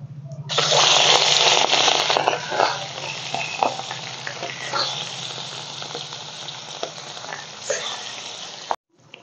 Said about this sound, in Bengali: তো তেল গরম হয়ে গেছে, এখন মাছগুলো ভেজে নেব।